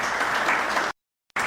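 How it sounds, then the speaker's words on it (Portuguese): A church congregation claps hands loudly and steadily for about a second, then the sound cuts off abruptly into silence before the clapping resumes briefly at the end. "bate as palmas bem forte para Deus"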